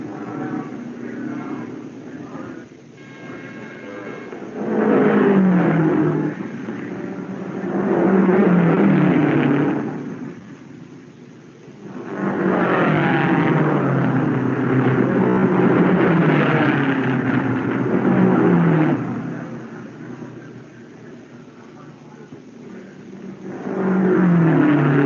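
A race car engine revs and pulls out of the pits after a tire change, surging loudly in repeated waves as it accelerates away, with no speech.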